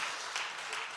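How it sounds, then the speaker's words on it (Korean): A congregation claps together at a Korean church special early-morning prayer service, a brief, steady burst of many hands heard at a moderate distance. "박수!"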